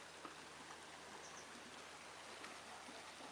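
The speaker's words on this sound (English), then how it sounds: "the sound of the river" A river flows steadily outdoors, a continuous faint broadband rush of moving water with tiny splashes, no voices, recorded through a microphone fitted with a furry windscreen.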